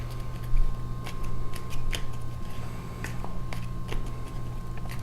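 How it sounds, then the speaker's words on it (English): A deck of Pandemic board game cards being shuffled, quick crisp riffles and flicks in irregular bursts close by over a low steady hum, with no talking. "just give these all a good shuffle and mix them up"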